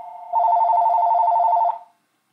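A telephone rings once with a loud, steady electronic trill lasting over a second before cutting off, heard close with no talking.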